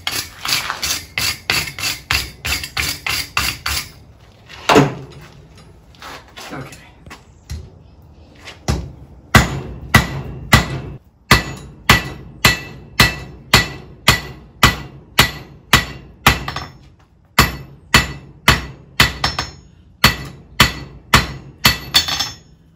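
A blacksmith's hammer strikes hot metal on an anvil, first in a rapid run of ringing blows, then after a short pause in a long, steady series of loud, evenly spaced metallic hits, close by with no talk.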